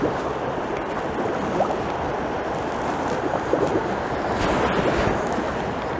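Wind gusts across the bank at a fishing match, a steady broadband rush of microphone buffeting with water lapping nearby and no voices.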